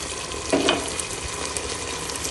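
Halim being stirred in a cooking pot, with a short scraping burst near the start over a steady sizzling hiss that continues throughout.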